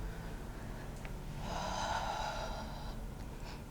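Controlled breathing during a standing Pilates exercise, a single long, steady exhale lasting a couple of seconds, soft and close over a quiet background.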